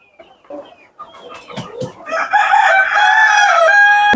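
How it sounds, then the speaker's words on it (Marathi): Black Australorp and Sonali chickens on a farm with about four hundred birds: scattered clucks build into a loud, close rooster crow holding through the second half. "ब्लॅक ॲस्ट्रोलॉप आणि सोनाली जातीचा पक्षी घेतला आहे चारशे पक्षी आहे"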